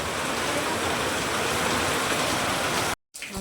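Steady, dense rain falls loudly and continuously throughout, a broad hissing downpour during the season's first rain, cut by a brief silence near the end before resuming more faintly.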